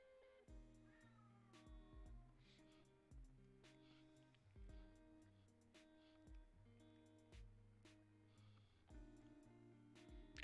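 Several house cats that don't get along meow and yowl in quiet repeated bursts over a muted background with regular soft knocks, faint and somewhat distant, without speech.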